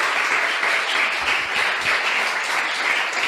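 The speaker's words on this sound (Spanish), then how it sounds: "Dale un aplauso al Señor." A church congregation applauds in a dense, steady wash of clapping that fills the whole stretch at full volume, with no pauses or voices standing out.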